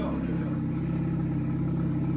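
Honda Civic FK5 fitted with a ProDrager Hyperflow exhaust, running with a steady, rumbling engine drone close by and a constant low throaty tone throughout.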